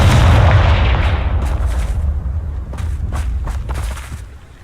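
A Confringo spell blast bursts in a Harry Potter video game with a heavy booming hit that rolls off into crackling debris, followed by a few sharp, scattered impacts and popping bursts before fading out.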